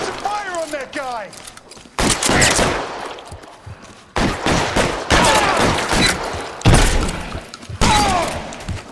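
Bursts of gunfire from the L.A. Noire video game, loud repeated volleys and shots in several clusters, with brief gaps between them and a voice speaking over parts of the action.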